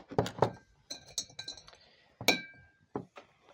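A water brush being filled from a glass of water, with several sharp glass clinks and light taps spaced irregularly, fairly quiet and close, with no talking.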